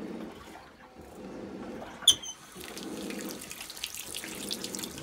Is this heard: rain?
no